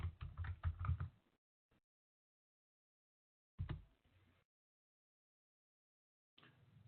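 Short bursts of computer keyboard typing at a Linux terminal: a quick flurry of keystrokes, a lone tap, then two more brief clusters separated by silence, close and fairly quiet.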